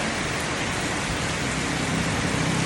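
Heavy rain pours down around a nipa hut during flooding, a dense, unbroken roar of water that stays loud and even throughout.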